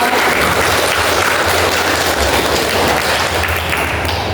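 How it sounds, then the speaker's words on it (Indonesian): Audience applause for the contestants in a quiz competition, a steady dense wash of clapping that fills the whole stretch without pause. "Aplaus untuk para peserta"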